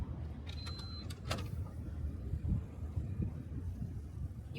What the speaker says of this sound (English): This Mazda mainly features electric sliding doors.